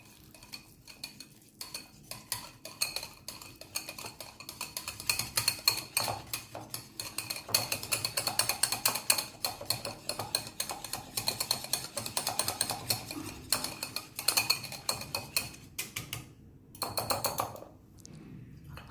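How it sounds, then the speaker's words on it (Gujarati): A spoon stirs yogurt and gram flour in a bowl, with rapid scraping and clinking against the sides that builds into a steady, busy rhythm before easing off near the end. "એની સામે 100 ગ્રામ ચણાનો લોટ, બંનેને સારી રીતે મિક્સ કરી લઈશું"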